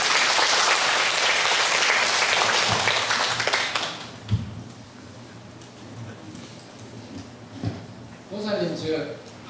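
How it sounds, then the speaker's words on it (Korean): Applause from a seated audience at a Buddhist dharma talk, loud and dense for about four seconds, then fading into scattered claps, a few taps and faint voices before a brief final burst. "박수 주세요"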